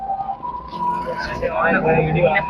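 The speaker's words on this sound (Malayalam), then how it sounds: "ആംബുലൻസ് പോയി" An ambulance siren passes by in wailing tones beneath steady nearby talking.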